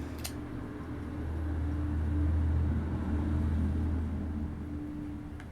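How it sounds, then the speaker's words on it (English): A garbage truck speeds past on a dirt road with a low engine rumble that swells as it nears and fades away, heard alone over several seconds. "The garbage truck decided to speed by."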